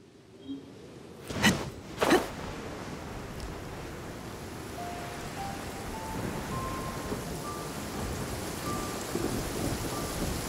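Stormy weather in the video game Genshin Impact: two sharp, close thunderclaps early on, then a steady wash of rain continuing throughout, with a faint tonal game sound rising in the background.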